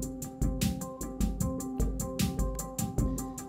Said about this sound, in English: I'm gonna pull in a harmony audio clip